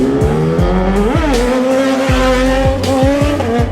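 A heavy motorbike performing stunts revs loudly and continuously, its engine pitch climbing and dropping through repeated shifts, with a brief squeal of tyres and no voices.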